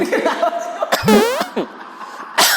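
A single sharp cough bursts out close by, followed by a short wheezy, rising vocal sound and a brief breathy noise, with a faint murmur of voices.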